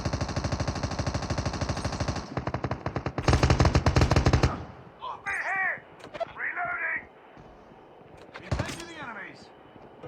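Call of Duty Mobile battle royale gunfire: rapid, loud automatic bursts of machine-gun fire dominate the first seconds, followed by scattered shots and game sound effects while a commentator talks over the action.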